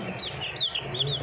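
Plymouth Rock and Jersey Giant crossbreed chickens cluck and call in short, close chirping bursts, with a steady low background hum and no talk.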